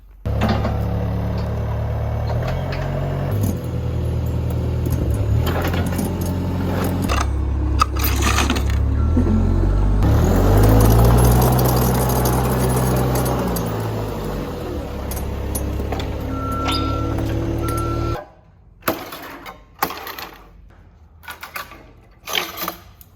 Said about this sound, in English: Get the skid steer, I'll move it inside.